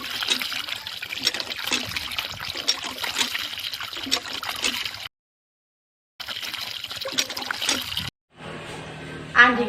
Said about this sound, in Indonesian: Ini gemericik sekali ini